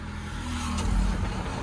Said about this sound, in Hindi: एक बार स्टार्ट करूँ क्या, क्रैंक दूँ?